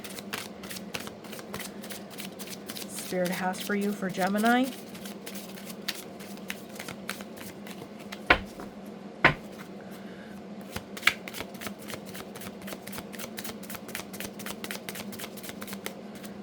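Tarot cards are shuffled in a steady, soft riffling patter that runs the whole time, with a few sharper taps, while a person speaks quietly over it.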